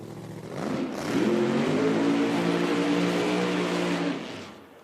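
A drag racing car in an IHRA Outlaw Nitro Series event roars up as it accelerates hard, a loud, sustained rising whine lasting several seconds before fading out.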